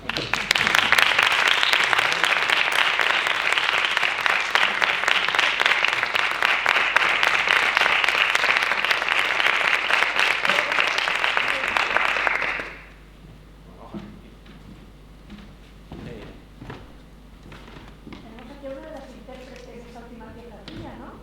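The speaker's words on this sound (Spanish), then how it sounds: "Primero un aplauso" An audience applauds steadily at a talk for about twelve seconds, dense and full, then the clapping stops abruptly and a few faint scattered sounds and distant voices remain.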